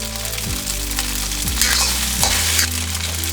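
Pork fried rice made with leftover ribs sizzles in a hot pan after teriyaki and sesame oil are added. A loud, close hiss runs under a steady low hum, with a few sliding tonal sweeps and stirring scrapes, and no one talks.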